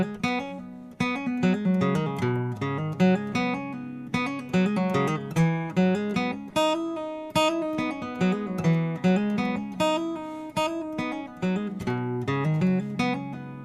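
A guitar slowly plays a riff, with clean plucked notes ringing out in a steady, unhurried pattern, close and clear with no voices.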